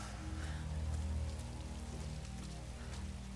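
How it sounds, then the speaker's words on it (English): Steady rain pouring over the outdoor scene in the video game Tomb Raider, a dense continuous hiss with low rumbling ambience beneath, filling the whole moment with no voices. "It's raining."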